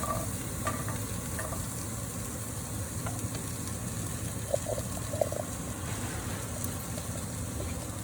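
Zucchini and crimini mushrooms frying in a pan with salt and pepper, a steady close sizzle with a few faint stirring clicks, no talking.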